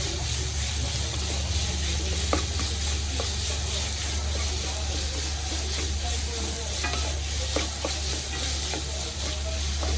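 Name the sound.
beetroot frying in a pan for pickle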